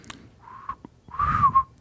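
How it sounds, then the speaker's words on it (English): A person whistles a short snatch of a TV show theme tune, two brief melodic phrases, the second louder and longer, close by with no talk over it. "They whistle the whole theme."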